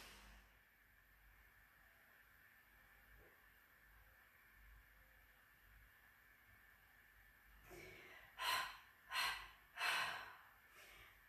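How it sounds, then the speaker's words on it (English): Breathing with the mouth and nose covered during a hypopressive exercise: after a long quiet stretch, three strong, muffled breaths come close together near the end, alone without talk. "Inhale through the tummy. Exhale."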